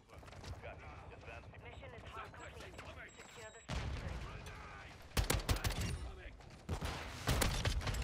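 SO-14 rifle fire in the video game Modern Warfare 2, with rapid bursts of sharp gunshots in quick succession alongside other in-game combat noise, growing denser toward the end while a player talks over it.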